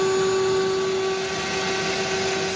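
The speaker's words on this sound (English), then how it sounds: "Gonna put the vacuum here in the exhaust and see." A vacuum cleaner runs steadily at close range, pressed against a furnace draft inducer exhaust, giving a loud, constant whine with a strong sustained tone throughout.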